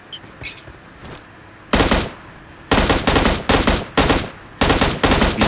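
Bursts of automatic gunfire in the battle royale game PUBG, a single shot followed by several loud rapid volleys in quick succession, close and punchy, with faint game sounds before.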